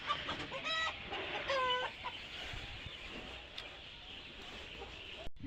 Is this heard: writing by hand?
no